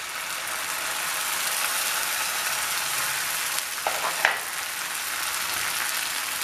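Tomato puree hitting a pan of frying ginger, garlic and chillies while making chicken roast: a constant loud sizzle and hiss throughout, with a few brief clinks of a spoon against the pan partway through.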